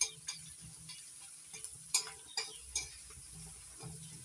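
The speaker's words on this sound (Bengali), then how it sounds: "এখন আমি রসুনটা লালচে করে ভেজে নেব।" Crushed garlic frying on low-to-medium heat while a utensil stirs and scrapes the pan, with a soft sizzle and sporadic metallic clicks and knocks, close but quiet.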